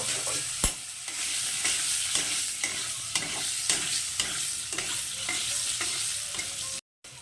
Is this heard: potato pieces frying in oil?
yes